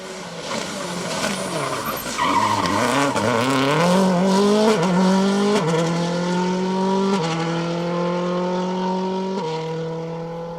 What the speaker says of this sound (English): admire the sound and sights of Barry Groundwater and Michael Hendry in that S11 WRC Impreza